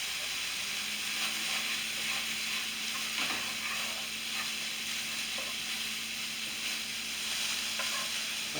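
Steak sizzling and frying in a pan for a homemade steak and cheese, a steady close hiss with occasional stirring scrapes throughout, plus a low hum in the background.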